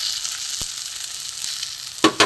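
Beaten egg frying with a potato filling for potato rolls in a pan: a brief, bright, steady sizzle, ending in two sharp scraping stirs close by.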